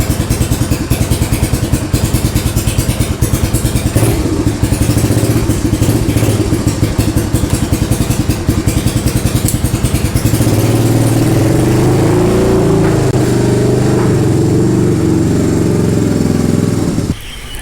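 A small aftermarket clone engine on a go-kart runs steadily just after a carburetor swap, its loud, close putter holding a constant rapid firing rhythm before the pitch shifts and rises slightly for the last several seconds.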